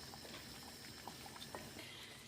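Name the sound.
pea and potato curry simmering in a pot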